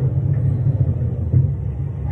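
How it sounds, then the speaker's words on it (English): A car cruising through downtown New York City with a steady, loud low engine and road rumble heard from inside the cabin, no talk. "So, we're just driving around downtown"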